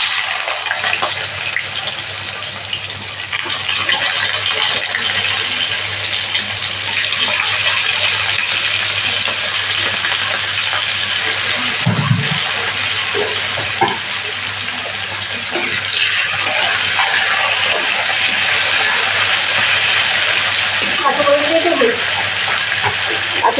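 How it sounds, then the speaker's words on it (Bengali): Raw green banana pieces fry lightly in an oil-filled pan, giving a steady broadband sizzle and hiss with occasional clinks, while a person talks intermittently over the cooking. "এখন কাঁচা কলাটা একটু ভেজে নিই হালকাভাবে।"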